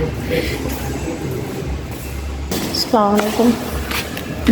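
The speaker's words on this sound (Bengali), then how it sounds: "আমরা রেল স্টেশনে চলে এসেছি" Train station ambience with a steady rumble of rail traffic, a brief rising squeal of wheels or horn partway through, and indistinct voices murmuring in the background throughout.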